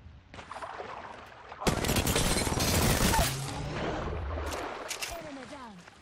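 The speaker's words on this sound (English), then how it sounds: "Another firefight." Rapid gunfire during an Apex Legends firefight, a loud dense burst of shots lasting about a second and a half, followed by fainter scattered shots and a character voice speaking.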